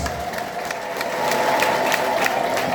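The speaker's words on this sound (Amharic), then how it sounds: "አጨብጭቡ ለጌታ ለኢየሱስ" A church congregation claps for Jesus, a dense wash of hand claps and crowd noise that swells louder halfway through the short burst.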